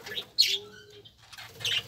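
Budgerigars in a colony breeding cage: a few close, short chirps and high tweets with a brief wing flutter, separated by quiet gaps.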